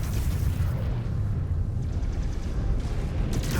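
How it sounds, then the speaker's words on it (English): A mech's exposed reactor explodes in the MechWarrior 5: Clans video game, a loud sustained rumbling boom with dense low-end roar that holds steady for several seconds. "Exposed reactor. Explosion imminent."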